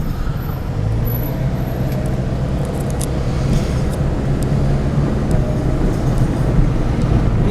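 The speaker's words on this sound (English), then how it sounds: "This sounds like I need a little brake work to do on it. Got a little rattle going on with it." A Pontiac car drives with a brake rattle, its steady road rumble and engine drone continuous and fairly loud throughout, with no talk.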